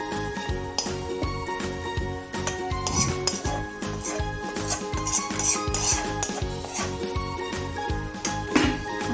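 A metal spoon scrapes and taps against a pot while spreading the remaining vegetable layer over rice for a restaurant-style biryani, giving steady rhythmic clinks and scrapes up close with no talking.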